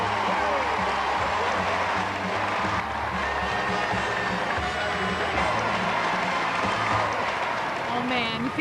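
A studio crowd applauds and cheers before a game show begins, a steady wash of clapping and excited voices filling the room while a voice talks over it.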